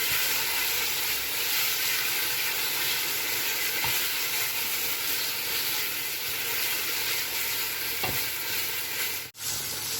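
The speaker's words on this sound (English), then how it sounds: "You have to fry it together, the onions and the tin tomatoes" Onions and tinned tomatoes frying together for Nigerian jollof rice, giving a loud, continuous close sizzle with a constant hiss and a couple of faint clicks, and no voice over it.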